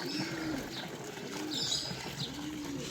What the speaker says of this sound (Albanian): Dhe pëllumbat,